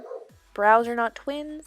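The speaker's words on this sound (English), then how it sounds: "Sorry about the dog barking" A dog barks in short sharp bursts, three close harmonic yelps of varying length, with a voice speaking briefly around them indoors.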